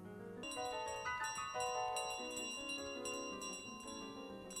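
A small bell in Untitled Goose Game rings over and over, bright clear dings in a quick irregular run, close and alone with no talk.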